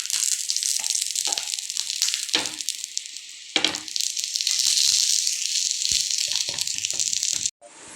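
Ghee hits a hot pan for crispy bread bajji and breaks into loud, close sizzling and crackling frying that fills the pan and stops abruptly at the end.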